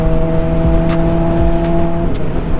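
A truck is driven fast by a race car driver, with a loud, steady engine roar and tire noise up close, plus a few sharp ticks and clicks over the rumble and no voices.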